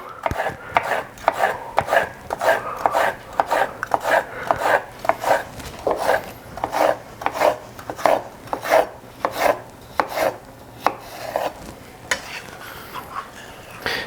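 A knife slices poached chicken on a cutting board into angled pieces, making a brisk, regular run of close, crisp cuts roughly twice a second, each one a short thud-scrape against the board.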